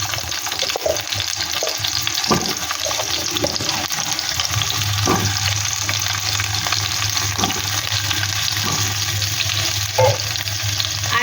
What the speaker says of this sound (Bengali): আলুগুলিকে আমি হালকা আঁচে হালকা করে ভেজে নেব